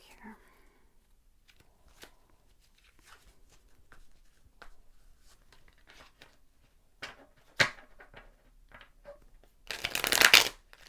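A deck of cards is shuffled for a card reading: soft scattered taps and rustles, then a loud, close riffling burst near the end.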